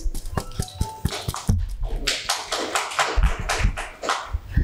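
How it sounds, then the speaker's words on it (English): Participants at a leadership programme inauguration receive a round of applause, the clapping building from a few distinct, close handclaps into dense, sustained applause from the room. "big round of applause for all the participants"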